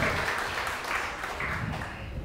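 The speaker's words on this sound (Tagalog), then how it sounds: "Palakpakan naman natin si Jesus." Church congregation applauding during a Sunday worship service, a steady continuous wash of clapping at even loudness throughout, without talk over it.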